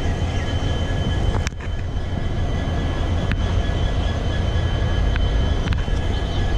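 WDG4 diesel locomotives from Pune and GOC sheds roll past on an Indian railway line, a loud continuous rumble and clatter of wheels and wagons close by, with a few sharp clanks along the way.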